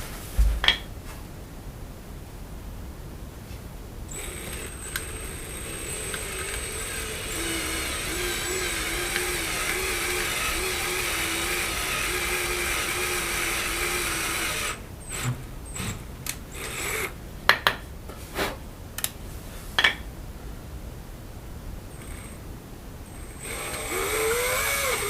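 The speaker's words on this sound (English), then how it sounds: "basically just going to try and drill these out, clean them out, get them ready for new dowels" A power drill bores out broken old wooden dowels from furniture joints in a workshop, whining in a long steady run, then stopping and restarting in short bursts with clunks and handling noise.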